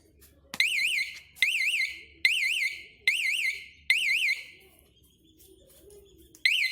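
An anti-theft alarm on a bike lock beeps in six short warbling chirp bursts, loud and close, separated by brief pauses.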